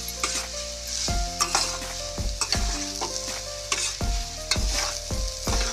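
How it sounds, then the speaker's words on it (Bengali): Grated coconut fries and sizzles in a pan while a spoon stirs it, giving a continuous crackling hiss broken by repeated scraping strokes and clinks against the pan at an irregular rhythm. "নারকেল যাতে একটু ভাজা করা হয়ে যায়।"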